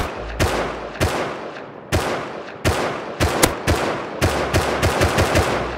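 Loud, close bursts of automatic gunfire from the video game Rust, several short volleys of rapid shots separated by brief pauses, with no talking over them.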